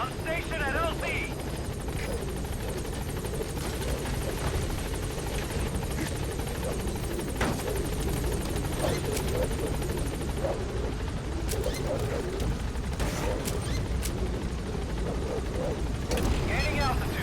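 The Pequod helicopter in Metal Gear Solid V holds a loud, steady rotor roar throughout, with a radio voice and game sound effects cutting in over the constant thrumming.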